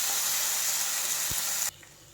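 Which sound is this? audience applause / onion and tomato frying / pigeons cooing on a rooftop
onion and tomato frying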